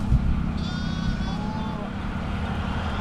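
Sheep in a flock at Kaithady near Jaffna, with faint high bleats drifting over a steady low rumble of outdoor background noise.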